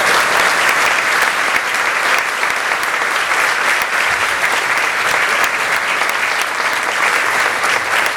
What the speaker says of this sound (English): let's give Bob quick a huge round of applause